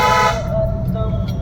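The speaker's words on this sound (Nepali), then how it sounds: "यो बाटोमा उसले हर्न बजाउँदै आउनु पर्यो" A vehicle horn toots sharply and loudly at the start, then fades into steady engine rumble on a mountain road heading to Phulchowki temple in Nepal.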